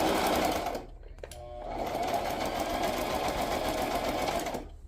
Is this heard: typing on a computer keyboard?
no